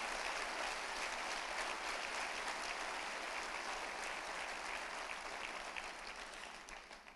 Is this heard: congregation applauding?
yes